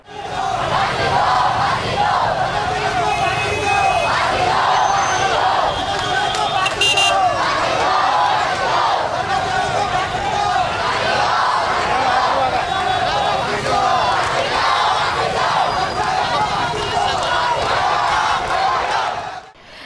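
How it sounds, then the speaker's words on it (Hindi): A large protesting crowd seated on a road near Atal Dwar in Indore chants and shouts slogans loudly and continuously, many voices overlapping in rhythmic bursts throughout. "यहां उन्होंने जमकर नारेबाजी की"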